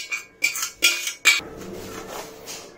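Fireless tomato beetroot rice being moved back onto a plate with a utensil: four quick, fairly loud clinks and scrapes of metal on the dish, then softer shuffling.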